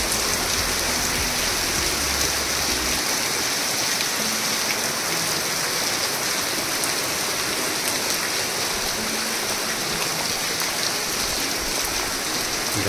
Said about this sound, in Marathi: मस्त वाटतंय. पावसाचं वातावरण एकदम.